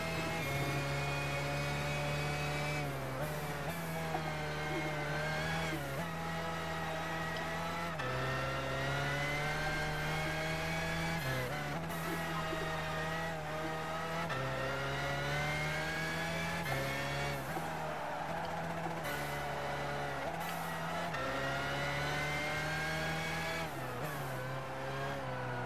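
The 1997 BMW McLaren F1 GTR race car in Gran Turismo 5 drones loudly and continuously, its engine rising and dropping through repeated gear shifts and revs with occasional tire squeal, no talk over it.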